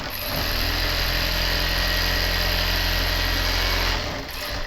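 Tailor's sewing machine stitching the band onto a gents suit collar, a steady droning whir running continuously for about four seconds before stopping.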